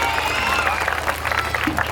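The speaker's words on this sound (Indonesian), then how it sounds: "Nunas tepuk tangan untuk penabur ini." Applause and crowd noise at a Calonarang performance at Pura Dalem Gede, Sayan, Ubud: a dense, loud wash of clapping mixed with cheering and low hum throughout.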